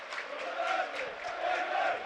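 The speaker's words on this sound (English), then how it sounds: "Crowd had been superb." A football stadium crowd at a Premier League match between Burnley and Southampton roars steadily in a loud, sustained wash of voices, with cheers and chants swelling throughout.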